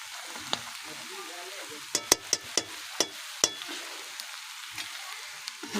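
A fish-fat and winter vegetable fry being stirred in a pan, with a steady sizzle under a run of sharp spoon-on-pan clinks close by, and no talking.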